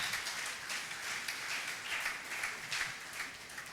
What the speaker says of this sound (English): Please, a round of applause for our own.